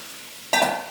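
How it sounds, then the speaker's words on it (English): Jambalaya vegetables and diced tomatoes hit a hot pan, bursting into a loud, broad sizzle that holds steady after a quiet start. "Well, now it's sizzling."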